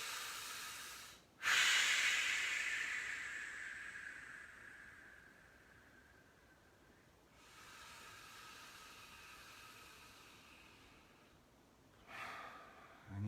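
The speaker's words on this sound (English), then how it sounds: "Then you do a few of the vigorous breaths again." Vigorous breaths from a gentle yoga session for the legs and hips come as three forceful, hissing nasal exhalations, one long, loud and fading and two shorter, spaced several seconds apart, near and without talk.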